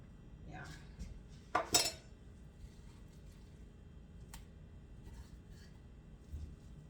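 Cutlery cuts a pork loin filet with gravy on a plate, giving a few soft scrapes and a couple of brief, sharper metallic clinks against a quiet, low background.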